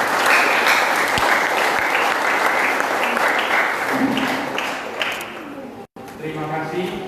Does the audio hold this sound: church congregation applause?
yes